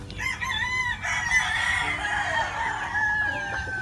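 A young bullstag gamecock crows nearby among early-bird banded birds. One drawn-out crow lasts several seconds, with faint clucking and farmyard noise around it.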